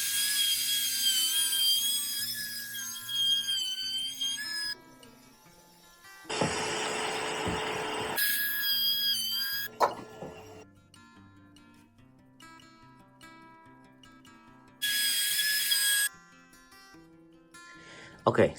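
A handheld router cuts dados into thin, flimsy board guided by a jig set for an eighth-inch spacer, coming in loud bursts that whine and roar between quieter stretches of background music.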